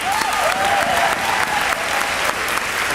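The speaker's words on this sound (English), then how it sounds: "if we could give a round of applause for our girls" Applause at a school athletic banquet honoring a girls' team that placed third in the state, dense steady clapping from a crowd filling the room for about three seconds, with a faint voice underneath.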